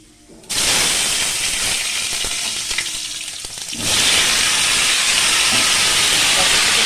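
Cut vegetables tipped into hot oil already spiced with panch phoron, a sudden loud sizzle that bursts up and keeps hissing steadily, swelling louder again partway through, close and alone.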